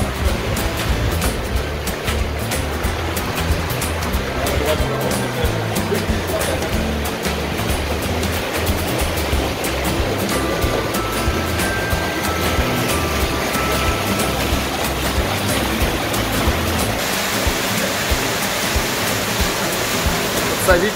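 A mountain stream rushes through a cold, gloomy gorge on Ishak Kuprik Sai, a loud, constant roar of churning water throughout.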